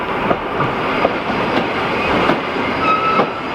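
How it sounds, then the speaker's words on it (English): A tourist railway train on the Mornington Tourist Railway pulls away from Moorooduc station, with a steady rumbling roll and clickety-clack of wheels on rails, plus a brief wheel squeal, loud and close throughout with no talking. "On the choo-choo train, leaving Moorooduc station."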